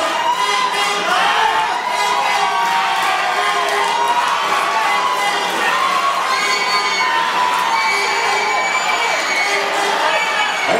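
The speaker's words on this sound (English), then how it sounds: "Gentlemen, another round of applause for the supporters." A crowd at the 2007 SEA Games men's 70 kg bodybuilding final roars with sustained cheering, high shouts and whoops, a loud dense wall of voices filling the hall without pause.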